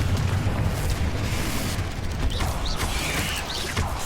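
A Confringo fire spell blasting in Hogwarts Legacy, a loud rumbling burst with crackling, creaking debris and mechanical rattles over roughly four seconds, with no voices.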